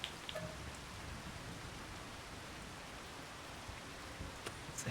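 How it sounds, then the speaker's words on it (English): Rain falling in Farming Simulator 25, a soft, continuous wash of drops heard faintly and evenly throughout, with a few brief ticks and no voices. "It's raining."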